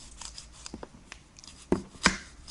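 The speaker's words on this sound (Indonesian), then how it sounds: "kita ambil 1 buah jeruk nipis, kita potong setengah bagian." A knife cutting a lime in half on a board for a honey-and-lime herbal cough remedy, giving a few soft, scattered taps with two sharper chops near the end, fairly quiet and close.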